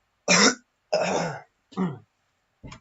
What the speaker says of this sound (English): I have a bad cough. I might cough in this.